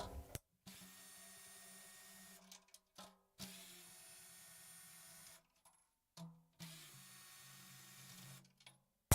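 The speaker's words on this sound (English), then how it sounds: "I don't know what's worse, dead air or the sound of a drill." A power drill runs during a Ludwig 6.5x14 chrome-over-brass snare drum setup, whirring in three long bursts separated by short silences and clicks, fairly quiet and with no talking.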